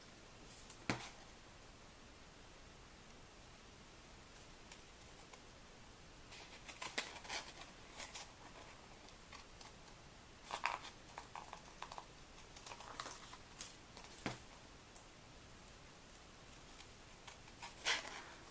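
Large clunky scissors snip through glittery card in a quiet room, faint crisp cuts arriving in scattered clusters with pauses between them.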